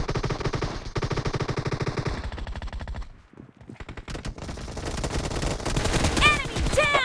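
Rapid automatic gunfire from a team deathmatch video game shooter, dense rattling bursts with a brief pause, then more shots and effects, close and loud.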